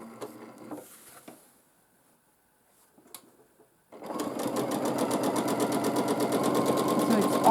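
A sewing machine quilting parallel lines on a scrap-pieced wall hanging starts up after a brief voice and a few soft clicks, then whirs and stitches steadily and loudly in a fast even rhythm.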